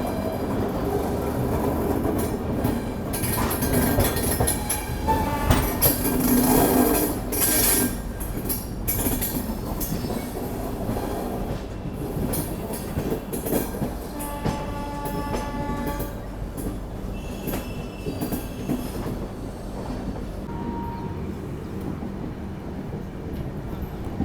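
Poorva Express 12304 superfast train running on rails near Shivaji Bridge station while overtaking another train, giving a steady, loud rumble and clatter of wheels throughout with no voices.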